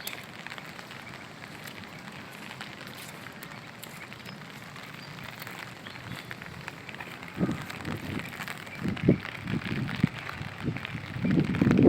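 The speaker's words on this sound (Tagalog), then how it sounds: "Sana po magdire-diretso yung ulan para diretsong mabuhay yung damo." Steady rain falls outdoors during a typhoon in northern farmland where cattle graze, a continuous broadband hiss with heavier bursts of drops and gusts building toward the end, no one speaking.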